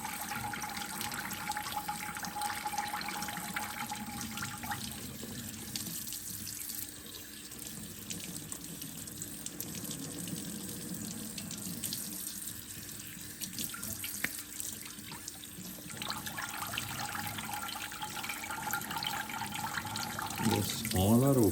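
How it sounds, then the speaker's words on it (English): Water sprays through the nozzles of a GE Café dishwasher lower spray arm, a steady close hiss and trickle of running water that shifts in tone partway through and carries on alone. "So I'm going to put water in here and then try to see if all the spray nozzles are working."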